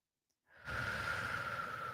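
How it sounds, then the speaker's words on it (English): A single long, steady breath of air starting after a brief silence, soft and close, drawn out for over a second with no talking. "Take a deep breath."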